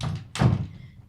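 A single solid thunk of a door shutting nearby, sharp at first and then fading quickly.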